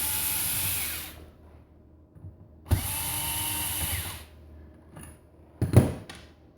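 A power driver removes screws from the fuser unit of a Ricoh 3235c copier, two loud close whirring runs separated by quiet gaps, followed by a short clatter.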